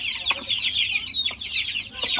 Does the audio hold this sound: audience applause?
no